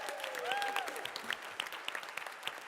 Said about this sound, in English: perhaps a little bit less applause for the dads who are trailing behind with 16